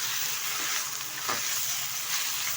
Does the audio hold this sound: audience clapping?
no